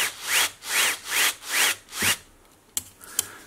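A 6 mm bit is turned by hand to drill a countersink in a BRM Renault Gordini slot car being converted for Carrera Digital. Five even rasping strokes grind close up, then two small sharp taps follow.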